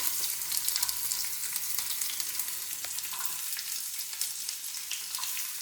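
Onions going into hot oil and frying, a dense close crackle and hiss that holds steady, with small sputtering pops scattered throughout and no talk.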